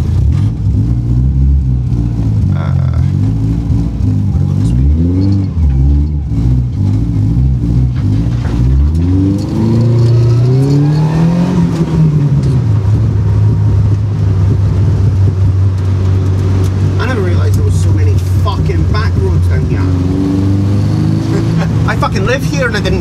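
Subaru with a welded differential revving and drifting, a loud close engine drone that rises and falls with throttle blips before settling into a steady roar, with people talking over it.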